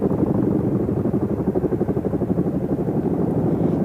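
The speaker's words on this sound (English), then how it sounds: "The Chinook is a tandem rotor heavy lift helicopter that is in the inventory of Indian Air Force." A Chinook tandem-rotor heavy-lift helicopter of the Indian Air Force at Exercise Vayushakti 2024 thumps with a loud, rapid, steady rotor beat over a deep engine drone.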